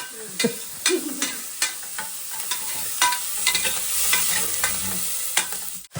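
Country chicken frying in a spiced tempering for village-style sambar, stirred with a ladle that scrapes and knocks against the pan in repeated bursts over a steady, close sizzle, with no talking.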